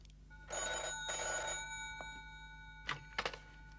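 A telephone rings indoors in two long metallic bursts of bell tone, followed by a few quiet clunks as the receiver is handled.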